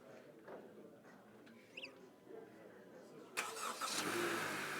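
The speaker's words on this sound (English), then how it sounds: "To start the car using the aftermarket remote, on the side of the remote there is a button for start." A Honda CR-V engine starts by aftermarket remote starter: quiet background, a faint beep, then the engine cranks and catches, settling into a steady idle rumble near the end.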